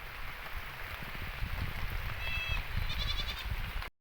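Goats shelter under a tree during heavy jungle rain, giving a few faint bleats over a steady wash of rainfall that continues until an abrupt cut at the end.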